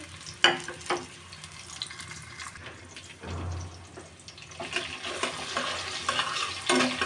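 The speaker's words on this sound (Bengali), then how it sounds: "তেলটা গরম হয়ে গেছে, এবার আমি পেঁয়াজ রসুন দিয়ে দিলাম" Sliced onion rings and garlic dropped into hot oil in a pan, giving a soft sizzling fry with scattered clinks and stirring noises, fairly quiet and close, with no talk.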